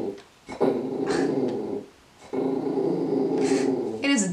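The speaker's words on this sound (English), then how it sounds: "I have no idea what she's growling at." A dog growls indoors at night in two long, low rumbling stretches with a brief pause between them, close and fairly loud.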